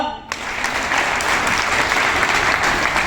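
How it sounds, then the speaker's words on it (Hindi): Audience in a sales or joining seminar bursts into loud, dense applause that swells quickly after a brief pause and holds steady throughout. "अच्छा, जोरदार तालियां"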